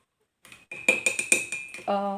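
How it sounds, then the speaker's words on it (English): A paintbrush stirs water and clinks against a glass several times in quick succession, then a bright ringing tone sustains; close and fairly quiet. "stirring of water and tapping on the glass, mixing on the palette"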